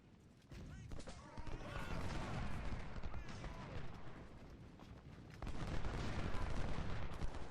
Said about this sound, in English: fight with detached skirmishers, getting shots on the flank